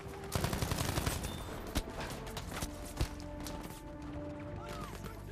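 An FG42 automatic rifle fires fast, dense bursts in Battlefield 5, with sharp cracks running steadily through the whole stretch amid a busy battlefield mix of impacts and clatter.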